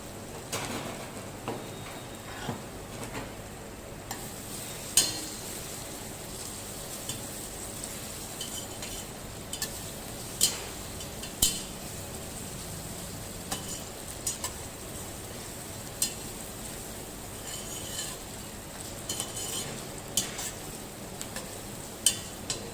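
Ginger garlic paste sautéing in a pan, a faint continuous sizzle broken by scattered sharp clicks and taps of a spoon against the pan, no talk.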